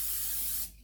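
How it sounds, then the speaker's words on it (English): Cooking spray hisses from an aerosol can onto a baking pan in one short, close, steady burst that cuts off abruptly just under a second. "So I'm going to spray the pan. Spray it really well."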